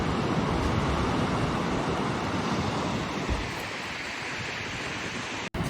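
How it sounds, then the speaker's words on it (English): Loud, steady roaring of strong wind buffeting outdoors beside a waterfall in Iceland, constant with slight swells, no speech over it. "Oh my gosh, it's so windy."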